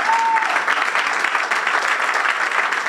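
A church congregation applauding in acclamation, loud and dense clapping that stays steady from start to finish, with a brief faint tone near the beginning.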